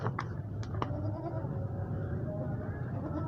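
A goat bleats in a crowded livestock market, a wavering call rising out of a dense bed of crowd noise and distant chatter, moderately loud with a few sharp clicks early on.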